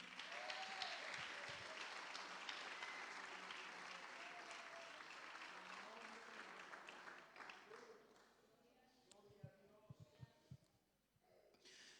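A church congregation applauds and cheers through a loud, full burst that thins out after about eight seconds into scattered claps and quieter room sound.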